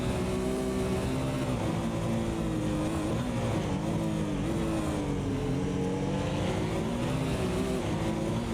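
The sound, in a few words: Porsche GT1 race car engines in PC racing game at Montreal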